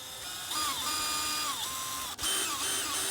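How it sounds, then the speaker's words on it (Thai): An electric drill bores a pilot hole into round steel while an awning is being fitted. The motor gives a high, whining drone that rises and dips in pitch as the bit bites, with a short break near the end. "ตอนเจาะเนาะก็จะใช้สว่านเจาะนำก่อนนะคะเพราะว่าไม่อย่างนั้นมันเจาะไม่เข้านะทุกคนเหล็กมันกลมด้วยนะ"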